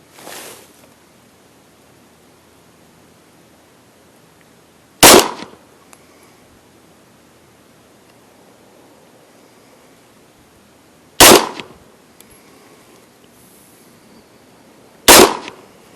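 Three sharp gunshots from target shooting ring out alone, spaced several seconds apart, each a loud crack with a short ringing tail over quiet outdoor background.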